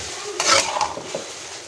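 Noodles with plenty of cabbage being stirred in a pot, a few scraping clinks of a utensil against metal with a soft sizzle underneath, close and fairly quiet.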